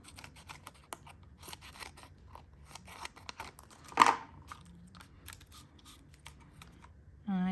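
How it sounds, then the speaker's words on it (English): Scissors cutting pop dot adhesive foam to size, a series of close, crisp snips scattered across the clip, with one louder sharp cut partway through and a quiet background. "I'm gonna grab my pop dots, I'm gonna cut them,"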